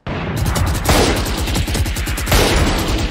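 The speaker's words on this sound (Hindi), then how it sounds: "इनकी स्नाइपर जो चल रही है ना, दमादम दमादम जो स्नाइपर चला रहे ना।" Sniper rifle gunfire in the video game Valorant, with dense, loud bursts of shots cracking one after another in rapid succession and no pause.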